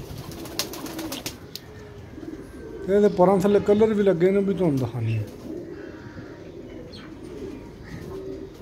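Pet pigeon gives one clear, close rolling coo lasting about two seconds, its wavering pitch falling at the end, while someone talks before and after it.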